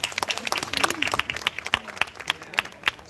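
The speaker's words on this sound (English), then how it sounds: "I just want to give another round of applause to Dan." Scattered crowd applause at an outdoor rally in Virginia for a veteran, sparse individual claps popping over a thin open-air background, moderately close but not loud.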